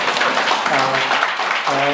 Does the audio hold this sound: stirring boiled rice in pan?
no